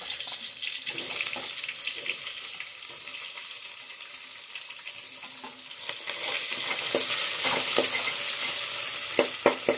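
Onion frying with green chillies in a pan, a steady sizzle with occasional stirring scrapes, fairly close and continuous, growing slightly louder toward the end.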